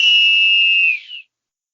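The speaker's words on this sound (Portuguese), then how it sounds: "Apito final no Boleirando de hoje." One long, shrill referee's whistle blast, loud and steady, trailing off with a short final chirp before silence.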